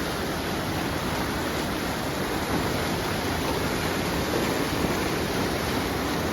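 Continuous rushing water of the Irpin River after rain spilling over a small drop, a broad steady roar close by with no pauses or voices.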